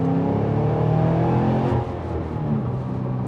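A 2017 Holden Maloo GTS-R with a supercharged 6.1-litre V8 accelerating in a lower gear, a loud, deep engine roar close by that builds and then eases slightly as it pulls.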